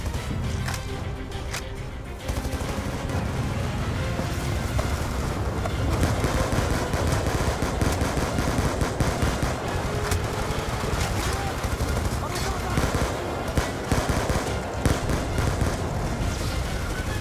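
Rapid automatic gunfire from a weapon in Call of Duty: Black Ops 2, a dense, loud, continuous rattle of shots with scattered louder cracks, running steadily for many seconds after a brief quieter start.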